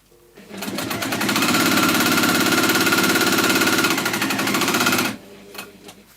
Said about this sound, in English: This is all straight line sewing, all of it, all of it